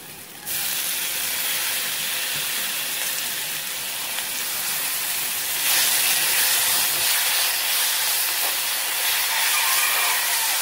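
A steady, loud sizzling hiss of tomatoes sautéing in a hot pan with asafoetida, continuous and slightly intensifying partway through.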